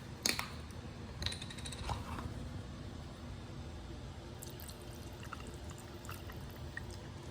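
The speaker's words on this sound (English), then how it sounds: "I gotta pour my water up in this cup" Water pours into a cup in a quiet room, a soft trickle with a few sharp clinks near the start and light splashy ticks scattered throughout. No voices accompany it.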